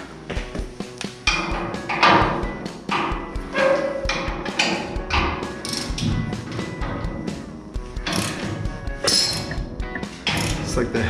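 Bolts being run out of an M416 trailer tongue with metal tools, giving repeated sharp metallic knocks, clanks and taps in a busy irregular rhythm, close and fairly loud throughout.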